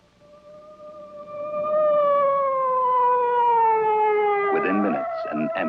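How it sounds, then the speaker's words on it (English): A loud wailing ambulance siren in a 1960s Astro Boy cartoon holds a long, slowly falling tone that swells and fades, then breaks into clattering bursts near the end. "Within minutes, an ambulance was on the scene."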